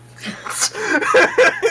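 A single quick sneeze bursts out, followed by brief mumbled voices.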